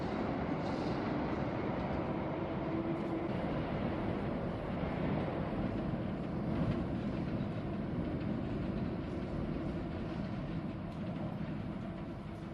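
A train sits at a station platform, a steady low rumble and wind-like wash filling the air without a break.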